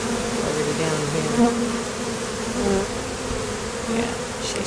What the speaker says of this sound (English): You can tell by all these bees circling around, coming down from there.